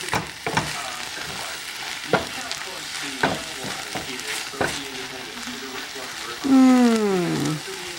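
Onions, peppers and mushrooms sizzle in a pan with a soft, constant fry, punctuated by sharp utensil clacks and scraping stirs, and a brief voice near the end.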